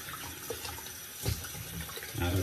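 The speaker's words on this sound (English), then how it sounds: "I rinse off the soap out of here." Tap water runs into a shaving soap container as the soap is rinsed out, a steady close splashing flow that swells louder near the end, with no talking.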